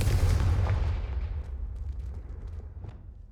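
A loud, booming Confringo spell blast in the Hogwarts Legacy video game, erupting at once and then rumbling away into a long fading tail, with a few faint crackles scattered through the decay.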